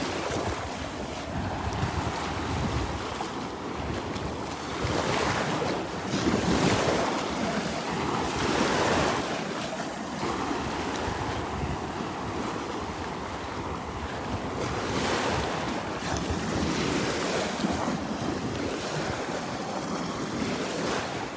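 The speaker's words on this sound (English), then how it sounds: "A lot of waves. That was a big boat. 2 big boats actually that went by out there. So they really churned up the water." Ocean surf at a beach in Delnor-Wiggins Pass State Park rolls and crashes, churned up by two big boats passing offshore. The waves swell and break continuously, with heavy wind buffeting the microphone throughout.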